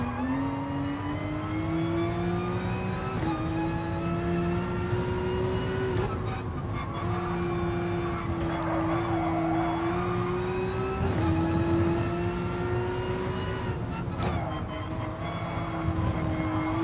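Race car engine lapping Monza in GT Sport, a loud, steady high-revving drone that holds near-constant pitch with brief dips at gear shifts, running continuously throughout.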